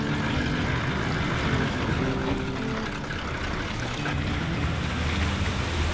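A four-wheel drive crosses a creek on a Victorian High Country track, giving a continuous rushing, sloshing wash of water mixed with low engine rumble, steady and fairly loud throughout with no talk.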